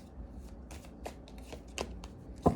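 Tarot cards being shuffled by hand, a series of quick riffling flicks and soft slaps close by, ending in a louder sharp tap, with no talking.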